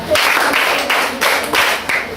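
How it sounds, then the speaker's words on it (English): A class claps in five loud, broad bursts of clapping, evenly spaced and close up, filling a room. "Let's give a hand to ourselves. 5 awesome claps. Start now."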